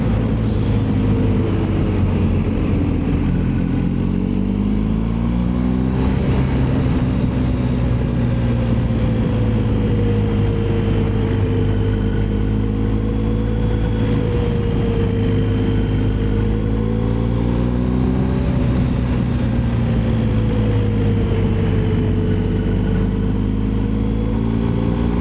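A BMW R1250 GSA motorcycle engine drones loud and constant while riding, heard from the rider's position, its pitch gently rising and falling with throttle changes over steady road and wind rush.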